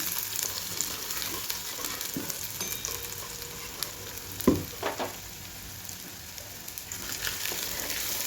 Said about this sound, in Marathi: आता या कांद्याला छान असं फ्राय होऊ द्यायचं.